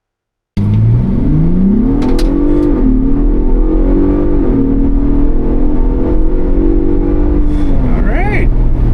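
A Ford Bronco Raptor's engine revs up hard on tarmac, a loud, steady roar that rises in pitch through the gears, with brief shift dips and a close, sustained drone.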